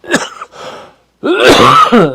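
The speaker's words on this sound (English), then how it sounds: "Sorry, I have a horrible cough from these allergies." A person with an allergy cough coughs and clears their throat, a short harsh burst, a pause, then a longer rasping throat-clearing fit, close up.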